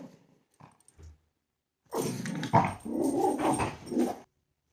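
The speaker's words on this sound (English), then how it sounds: "We had a delivery and my puppy was about to lose it." A puppy reacting to a delivery at home, letting out a few short faint whimpers and yips, then a burst of close, loud growling barks lasting about two seconds before falling silent.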